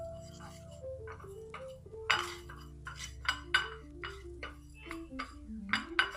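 A spoon stirring stuffed bitter gourd in a pan gives light, irregular clinks and scrapes against the metal, spread over several seconds and fairly quiet, with a soft steady sizzle-like hum underneath and no talking.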